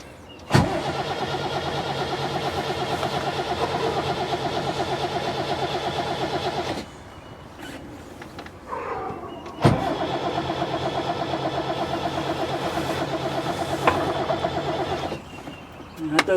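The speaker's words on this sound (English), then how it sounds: "when you want to start the engine and give it fuel, is you push that button in like that." Boat engine being started during a sea trial: a sharp click, then a steady mid-pitched engine drone for several seconds, a pause and another start and run, with brief human sounds in between.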